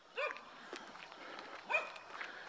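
A beagle or hound-type dog barks twice in the distance, two short yelps about a second and a half apart, faint against outdoor ambience during a walk.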